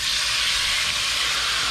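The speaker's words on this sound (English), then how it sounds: "It's nice and hot. You can hear it sizzling." Raw bay scallops sizzling in a hot copper pan, a steady, bright, close hiss with no talk.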